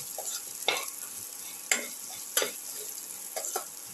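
Salt stirred into an eggplant and tomato mixture with ginger for a casserole, a few soft scraping strokes against the pan at a steady unhurried pace over a faint sizzle, quiet and close.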